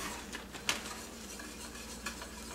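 A spoon stirs Alfredo sauce for chicken fettuccine Alfredo in a pan on the stove. Soft scraping and a gentle simmering sizzle carry throughout, with one sharp utensil clink against the pan early on and a few lighter taps later.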